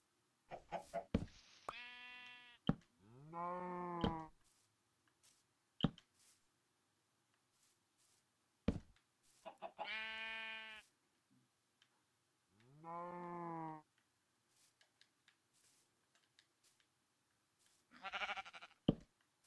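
Sheep bleating in the Minecraft video game, several separate bleats spaced out at a moderate distance, with short clicks between them and no talk.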